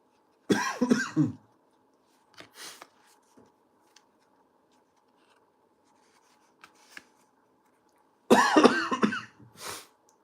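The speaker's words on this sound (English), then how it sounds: "My goodness, can't stop coughing." Two harsh, close coughing fits several seconds apart, with a few faint scuffs and a short throat-clear in the quiet between them.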